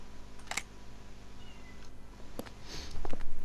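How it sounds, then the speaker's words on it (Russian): A pet cat gives short, scattered meows close by in a room during a Silent Hill 4 gaming session, with faint clicks and a constant low hum underneath and no talking. "Кот, короче, мешаться тут решил мой."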